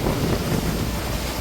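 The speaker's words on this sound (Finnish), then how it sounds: "Kyllä, ihan yllättävän hyvä tuuli tänään." Strong wind buffets the microphone aboard a sailboat near the Panama Canal, a dense, continuous roar over choppy sea with no other sounds standing out.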